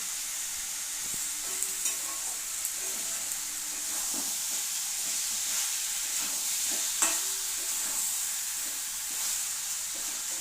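Spice paste frying in a pan, a steady bright sizzle and hiss running throughout, with occasional soft stirring scrapes and clicks, close and continuous.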